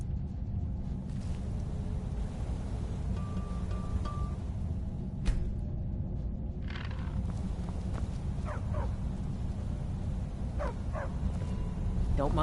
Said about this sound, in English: Don't mind the dogs. They get anxious when they haven't had dinner.